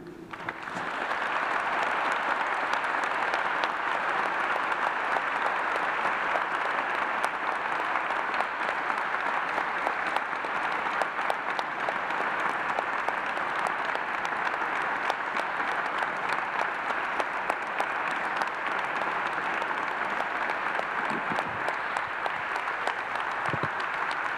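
Sustained audience applause fills a hall at a public talk with Admiral Cavo Dragone on the armed forces, a dense, even wash of many hands clapping at steady loudness for over twenty seconds with no voices.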